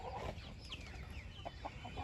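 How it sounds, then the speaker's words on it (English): Ayam Cemani chickens, a rare all-black breed, cluck softly in a farm pen, several short quiet clucks and calls scattered over a low background hum, with no one speaking. "Then these right here are called I'm Chamani. They're like a rare all black chicken."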